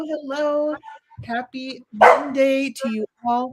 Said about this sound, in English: I am so sorry if you hear a barking puppy.